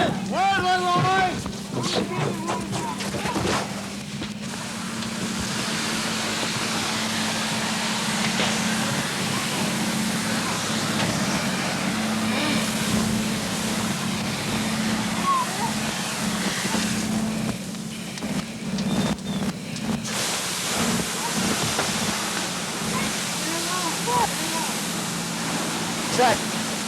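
At a fire rescue scene a hose sprays water as a steady broad hiss, with constant wind-like rush and occasional bursts, while people talk and shout under the spray.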